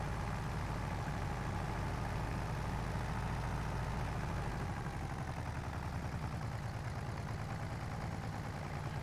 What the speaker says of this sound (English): The engine's actually torquing the frame around.